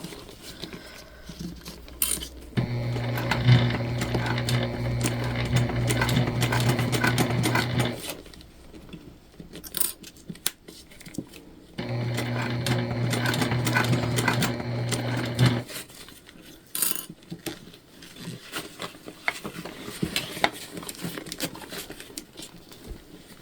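A sewing machine stitches a shoulder bag in two long bursts of steady, rapid running, with short pauses and handling noises between as the fabric is pivoted; no talking.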